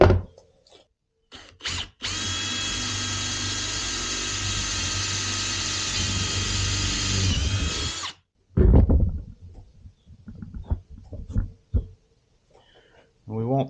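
A power drill drives screws into rubber stock tank matting, one steady whirring run of about six seconds with clicks and handling knocks before and after.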